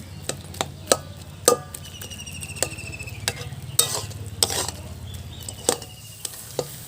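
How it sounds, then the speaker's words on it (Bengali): Potatoes are sautéed in a wok with a low steady sizzle, punctuated by frequent sharp metallic clacks and scrapes from stirring at an irregular rhythm, close and fairly loud, with no voices. "আলুটা আমার কষানো হয়ে গেছে, এখন জল দিয়ে দেব"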